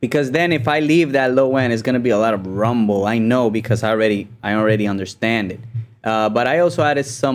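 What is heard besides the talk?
None of the usual background noises is heard.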